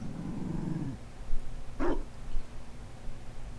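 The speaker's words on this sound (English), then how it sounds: "Is that a dog? Oh my god, it's a dog." A Mabari war dog in the video game Dragon Age: Inquisition lets out a low, rumbling growl for about a second, then a short, sharp bark-like snarl, with game ambience in the background.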